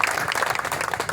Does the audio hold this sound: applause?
yes